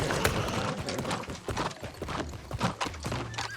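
A horse's hooves clip-clopping at a steady riding pace in the video game New World, close and rhythmic over a low rumbling game background.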